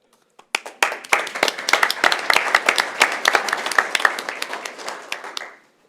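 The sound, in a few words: applause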